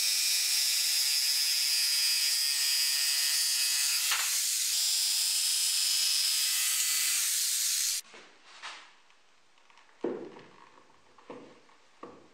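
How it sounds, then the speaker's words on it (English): A power drill bores holes into the cast metal housing of a saw, giving a steady high whine for several seconds, then stopping, followed by scattered clanks and handling noises. "And I drilled holes into the cast housing of the saw and screwed it into place."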